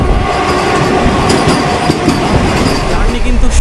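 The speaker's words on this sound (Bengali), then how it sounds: "হাওড়া হাতিয়া ক্রিয়া যোগা এক্সপ্রেস, এই ট্রেন নাম্বার হলো 18615।" The Howrah–Hatia Kriya Yoga Express, train 18615 bound for Ranchi, runs with a loud, steady rumble and wheel clatter heard from close by, unbroken throughout.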